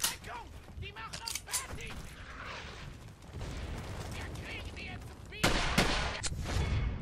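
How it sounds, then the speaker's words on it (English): Gunfire in Brothers in Arms: Hell's Highway, including sniper fire, with scattered sharp shots and battle noise under voices talking, ending in louder, closer cracks. "Sniper fire!"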